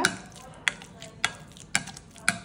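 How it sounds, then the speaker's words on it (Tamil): Avocado being mashed in a bowl, five evenly spaced sharp knocks of a utensil pressing against the dish over a faint background, with no talking. "அவகேடோவை விதையை எடுத்து போட்டுட்டு இது இந்த மாதிரி எடுத்துட்டு நல்லா மசிச்சுக்கோங்க"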